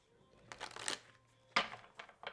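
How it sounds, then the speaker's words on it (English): A deck of tarot cards being shuffled: quiet riffling bursts, a longer ruffle followed by a sharper flutter and a short final riff, close and soft, with no talking. "I'm just going to shuffle the deck"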